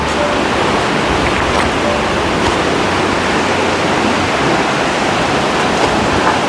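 The Salmon River near Sayward on northern Vancouver Island, heard from the riprap bank, is a loud, close, continuous broadband rush of flowing water that stays steady throughout.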